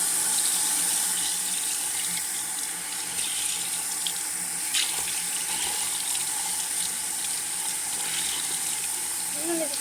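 A tap runs steadily into a sink while something is washed, a constant close splashing stream that holds at an even level from start to finish.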